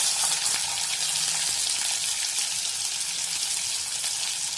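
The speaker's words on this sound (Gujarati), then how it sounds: "હવે આપણે આમાં ટમેટા નાખવાનું છે." Chopped tomatoes hit golden-brown sautéed onions in a hot pan for kantola shak, a steady close sizzle and crackle of frying running evenly throughout with no voices.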